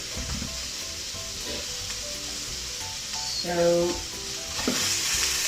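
Cauliflower couscous sizzles steadily in a pan while being stirred, with soft scraping throughout and a short spoken word and voiced sounds partway through.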